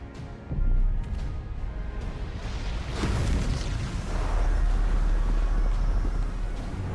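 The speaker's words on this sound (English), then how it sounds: "That's a big explosion." A big explosion in the video game Final Fantasy XIV, a sudden loud boom followed by a long, deep rumbling roar that swells and sustains for several seconds with no talking.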